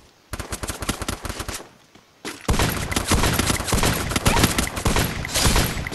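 Gunfire in the video game Free Fire during a match against bots: a loud burst of rapid automatic shots, a brief pause, then a longer sustained volley of rapid fire, with no speech.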